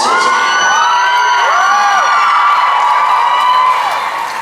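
A large convention audience at a Supernatural fan panel screams and cheers loudly, a dense sustained wall of high-pitched shrieks and whoops that fades slightly at the end.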